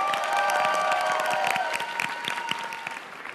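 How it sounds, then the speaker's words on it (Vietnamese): An audience claps in a dense, steady burst of applause, with some crowd noise underneath, gradually easing off toward the end. "Vỗ tay mạnh lên."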